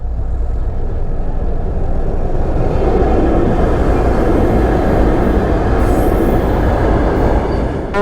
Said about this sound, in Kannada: Goods train.